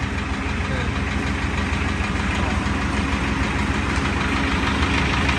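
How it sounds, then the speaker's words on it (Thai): A car engine, apparently an old Volkswagen, runs steadily with a dense, rough mechanical drone and a knocking texture, loud and close, with no clear rise in revs and no talking. "โยโยเครื่องขึ้นนะ"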